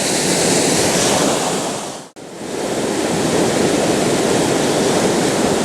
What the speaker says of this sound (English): that water is raging right past it